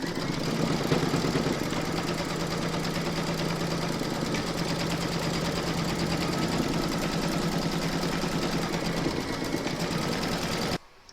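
An embroidery sewing machine stitches a quilting round in one fast, even mechanical chatter that runs without pause for about ten seconds, then stops abruptly.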